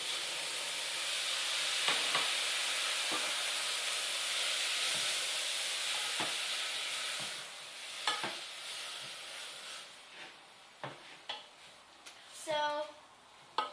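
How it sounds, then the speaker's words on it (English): Spinach pakoras sizzle steadily in hot oil, a broad hiss that fades partway through, followed by scattered scraping stirs and clinks as seasoning and spice powders are mixed through them. "just mix it so all the seasoning and all the powders circulate, and they're all around all the food here right now"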